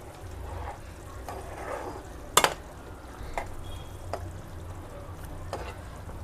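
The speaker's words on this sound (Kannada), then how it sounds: "ಸ್ವಲ್ಪ ಗಟ್ಟಿ ಆಗಬೇಕು, ಅಲ್ಲಿ ತನಕ ಕುದಿಸ್ಬೇಕು ಇದನ್ನು ಅಷ್ಟೇ." Gravy simmers and thickens in a pan with a soft, steady bubbling sizzle. A few sharp utensil clicks and taps break through now and then, close by and fairly quiet.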